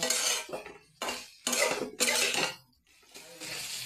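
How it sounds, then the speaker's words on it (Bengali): Capsicum curry (shimla mirch kosha) with garam masala being stirred in a pan, with repeated bursts of metal spoon scraping and clattering against the pan, separated by brief pauses. "এবার আমি একটু নেড়ে চেড়ে নামিয়ে দিব"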